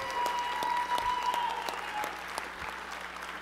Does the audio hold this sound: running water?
no